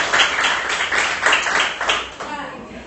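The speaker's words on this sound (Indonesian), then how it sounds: "Oke, tepuk tangan untuk kita semua." Classroom applause from a group of students clapping together in several bursts, rhythmic and fairly loud, lasting about three seconds.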